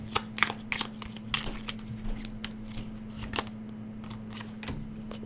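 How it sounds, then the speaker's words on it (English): A deck of tarot cards is shuffled in a series of quick, dry riffling and slapping bursts, close and fairly quiet over a steady low electrical hum. "Let me just give it a good shuffle"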